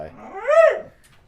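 A pet dog gives a single rising-and-falling whimper, a high tonal whine that swells and fades over about a second, close by and heard alone.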